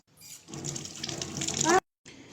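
Red ginger is rinsed under a running kitchen tap, giving a splashing, hissing water stream that builds for over a second, stops abruptly, then resumes briefly; faint vocal sounds sit at the start.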